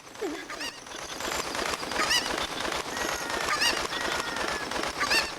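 A Cucco chicken in Ocarina of Time gives repeated short squawking clucks over a busy game soundscape, several calls spread across the clip at moderate loudness.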